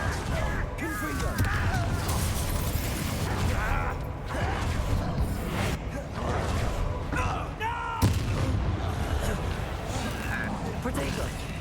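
Confringo fire spells burst in quick succession during Hogwarts Legacy combat, with dense thuds and crackling blasts layered over game noise while character voices speak throughout.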